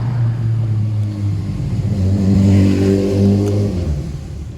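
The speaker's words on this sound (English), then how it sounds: "I'm sorry about the noise, I'm on the street." A car engine revs in the street, with a steady low mid-range drone that swells in the middle and then eases off. Nearby traffic rumbles on throughout at a moderate level, and no one speaks.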